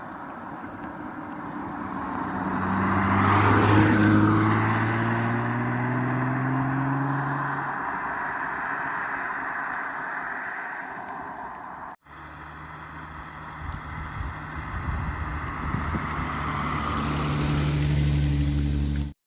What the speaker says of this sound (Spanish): del bramido de su bonito coche